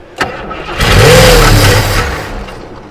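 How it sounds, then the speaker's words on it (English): A 1973 Ford Mustang Mach 1, started for the first time in years, gives a sharp click, then cranks briefly before the engine catches with a loud, close roar that settles back down. "All right, go ahead and crank it."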